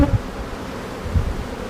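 Honeybees buzz steadily at close range as frames are lifted from a hive during an inspection, a continuous droning hum with a couple of brief louder swells and no voices.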